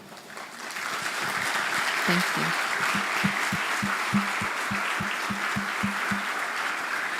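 Students at a university career expo launch stand and clap together in a steady, sustained round of applause that fills the hall, while a voice briefly offers thanks over it.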